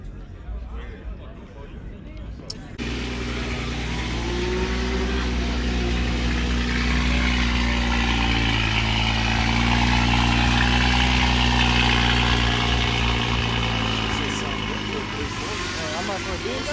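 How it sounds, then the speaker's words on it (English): A twin-turbo Lamborghini Huracan Evo idles loudly at a Florida car meet, a deep steady engine drone that starts abruptly after a short quiet opening and swells slightly, with a voice talking faintly underneath. "Twin turbo Huracan Evo."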